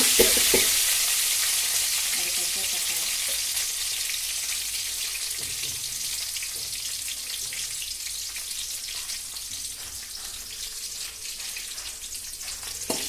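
Onions fry in hot oil with mustard seeds, fenugreek and curry leaves for a fish curry, making a strong, steady sizzle with faint crackles and occasional stirring sounds throughout.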